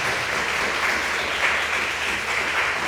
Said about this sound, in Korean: 우리 함께 박수로 하나님께 환영하겠습니다